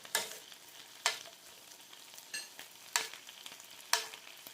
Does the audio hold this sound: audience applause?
no